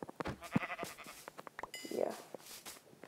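Sheep in the video game Minecraft bleat in a few short, repeated calls at close range, mixed with game sounds and a voice.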